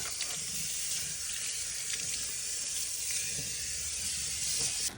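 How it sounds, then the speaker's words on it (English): Tap water runs steadily into a kitchen sink as it is rinsed out, a continuous close splashing rush with no voices. "then we're going to rinse it out"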